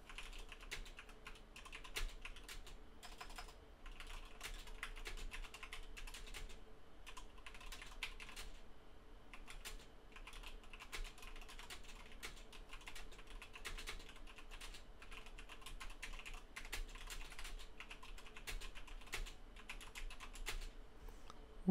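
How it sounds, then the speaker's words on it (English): Fingers type on a computer keyboard in continuous, quiet, close clicking with irregular bursts and brief pauses, and no talk. "type your notes"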